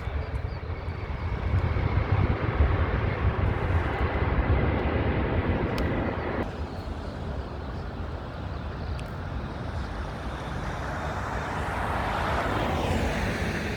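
An Airbus A350 airliner at London Heathrow produces a continuous broad jet roar that holds steady, then shifts and thins slightly midway as it passes, heard alone without voices.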